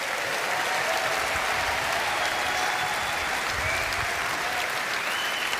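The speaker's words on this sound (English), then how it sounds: "Give him a round of applause." Continuous, even applause fills a large hall at a Reform Party conference in Birmingham, a dense crowd clapping steadily for several seconds with no talk.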